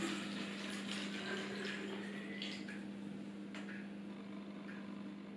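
Water poured into a plastic bottle until about half full, a faint continuous trickling splash over a low steady hum, with no talking.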